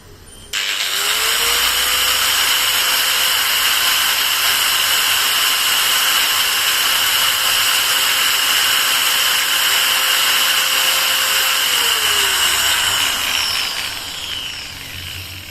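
A Total TG109125565 variable-speed angle grinder runs at speed 5, spinning up to a loud, steady, high whine that holds for about ten seconds and then starts to wind down, with no voices.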